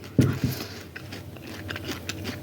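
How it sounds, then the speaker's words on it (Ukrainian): Someone chews crunchy sauerkraut salad dressed with oil: two loud crunching bites up close at the start, then softer chewing that fades. "Хрумка, смачна, капуста."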